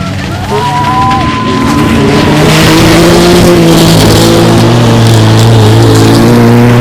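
Rally race car, loud and close, engine climbing through rising revs with gear changes and tire noise, with a faint voice beneath.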